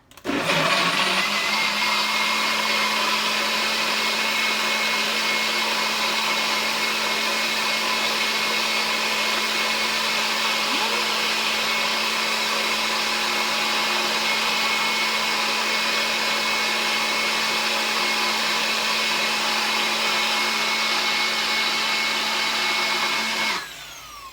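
A NutriBullet blender mixing a healthy shake, running as one loud, steady whirring drone for about 23 seconds, then cutting off abruptly.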